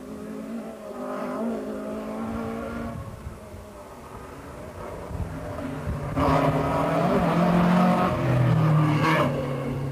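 Vauxhall Chevette rally car racing uphill through a village, engine revving hard and rising and falling in pitch as it nears and passes, growing louder in the last seconds, with no talk over it.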